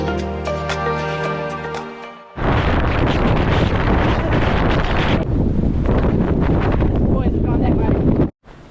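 Strong wind on a hilltop lookout in New Zealand roars and buffets the microphone in loud, continuous gusts after a brief tonal opening, then cuts off abruptly.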